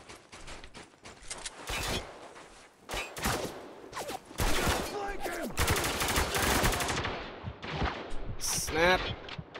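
Gunfire from the video game Spec Ops: The Line, with dense bursts of automatic fire, single shots and explosions coming in loud, irregular volleys over roughly ten seconds, mixed with shouted voices.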